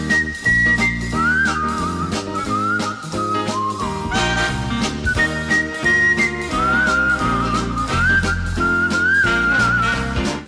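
Melodic whistling carries the tune of a song over a steady, rhythmic band accompaniment, the whistle loud and clear throughout.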